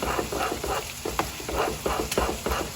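Spoon stirring Cheese Whiz into hot grits in a pot, a steady scraping, squelching rhythm up close with a faint sizzle underneath, no voices.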